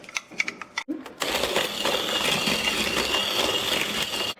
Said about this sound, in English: We also have to grind the vanilla sugar, so we'll just add that to the cane sugar. And now grind it!